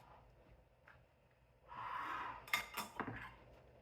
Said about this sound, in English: I'm just going to use the spatula because it can cut right through